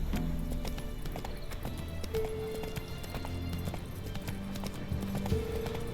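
A horse's hooves clip-clop steadily as it is ridden in the video game The Witcher 3: Wild Hunt. A brief whinny comes through over quiet game ambience.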